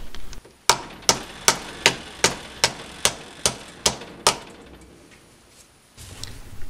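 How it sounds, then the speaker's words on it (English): A run of about ten sharp, evenly spaced soft-hammer taps seating a differential ring on a BMW E46, ringing briefly, then a quiet stretch with some low handling noise. "Two hits from a soft hammer seated into place just fine."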